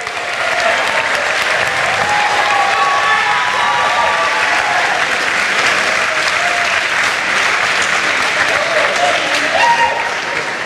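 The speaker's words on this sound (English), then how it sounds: "Let's give all a nice round of applause." Loud, sustained applause from a large crowd fills an indoor hall at a Formula SAE Michigan awards ceremony, running unbroken for about ten seconds.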